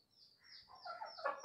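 Desi chickens kept at home with chicks make a short run of soft, close clucking calls, rising slightly toward the end, with no talking.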